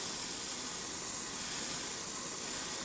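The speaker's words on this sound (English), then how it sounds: "what I will often do is I'll be spraying something like this" A spray can releasing a continuous, steady hiss that runs unbroken from start to finish at moderate level, with no voices, during work on a model ship.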